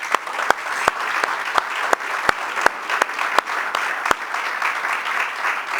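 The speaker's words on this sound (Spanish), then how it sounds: "Démosle un aplauso al Señor." A crowd claps steadily for several seconds, a dense even applause with a few sharp, louder claps standing out near the front.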